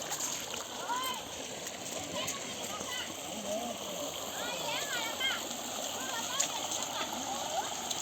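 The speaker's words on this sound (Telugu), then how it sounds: "ఎద్దుల బండి వాటర్లో వెళ్ళేది అవుతుంది" A bullock cart wades through a village stream with constant splashing and trickling water, while voices, including a child's, talk over it throughout.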